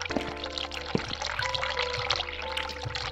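Cold water pours and trickles continuously in the video game The Cat Lady, a steady splashing stream over a low background hum.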